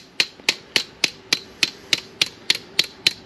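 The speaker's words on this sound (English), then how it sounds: "take my hammer and just real lightly tap it" A hammer lightly taps an aluminum window screen frame in about a dozen sharp, evenly spaced metallic ticks, each one close and crisp with a brief ring.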